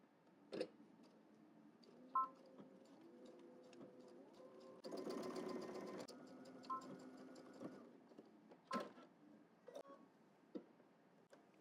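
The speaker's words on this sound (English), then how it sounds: "Then we're going to stitch across the triangle and then go all the way down." A sewing machine stitches across a jacket welt pocket in short, quiet runs, with one longer burst in the middle, scattered ticks and clicks between, and faint tonal beeps in a quiet room.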